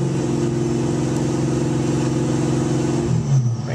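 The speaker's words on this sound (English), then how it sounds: "Let's rev it up." A car engine fitted with Pro M EFI, running at a cold idle, holds a loud, steady note close up, then near the end rises briefly as the throttle is blipped.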